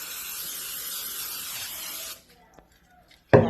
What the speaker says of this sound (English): I take this and I spray that so it doesn't get stuck to the pan